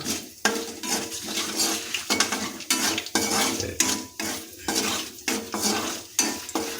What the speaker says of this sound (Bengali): গরম তেলের উপরে ফোড়ন যোগ করে দিচ্ছি এক চা চামচ পরিমাণ গোটা জিরে যোগ করে দিচ্ছি তাই এটাকে আমরা ভালোভাবে হাতা দিয়ে নাড়িয়ে নেব